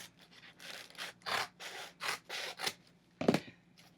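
Scissors snip through tulle for a pixie-cut tutu in a steady series of soft, close rasping cuts, ending with one sharper, louder snip, and nobody speaks.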